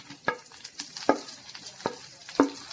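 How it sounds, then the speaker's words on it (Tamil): Onions fry in a pan with a soft background sizzle, broken by about five sharp scraping knocks of a spatula stirring at irregular intervals, close and moderately loud, with no voices. "வெங்காயம்லாம் நல்லா பொரிஞ்சிச்சு"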